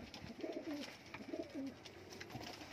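Two clear, close bursts of throaty cooing from a group of teddy pigeons kept as domestic birds, with quiet background noise between them.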